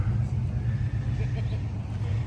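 A 1986 Dodge Daytona engine runs steadily nearby, a continuous low throbbing rumble with no clear revving, holding an even level throughout.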